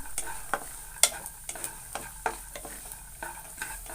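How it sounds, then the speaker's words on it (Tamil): Peanuts roast in a dry pan over a medium flame, giving a soft, continuous rustle with repeated sharp scraping strokes and light clicks as they are stirred, close and fairly quiet. "நம்ம மீடியம் ஃப்ளேம்லேயே வச்சு நம்ம வறுத்துக்கலாம்"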